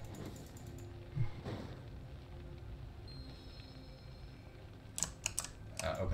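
Rapid mouse clicks and keyboard taps on a computer while playing World of Warcraft, light repeated clicks in short bursts under a quiet voice and faint game sounds.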